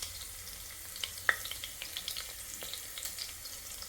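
Mustard, cumin, fenugreek and coriander seeds with a little garlic frying in hot oil for radish sambar, a quiet steady sizzle scattered with small pops and crackles, close and faint.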